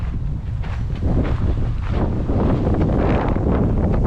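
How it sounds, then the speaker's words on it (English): Strong wind at Uluru roars steadily across the microphone, a loud continuous buffeting rumble with no speech over it. "A bit windy today."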